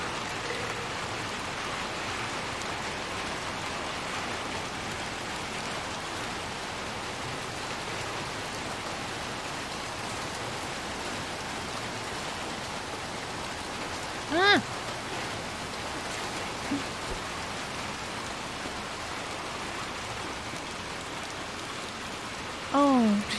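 Steady rain falls in the video game Little Nightmares II as a continuous soft hiss, with a couple of brief tonal sounds and a short voice near the end.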